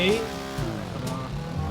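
A Ducati Multistrada motorcycle rides in the video game GTA 5: a steady engine drone with shifting pitch runs under someone talking excitedly.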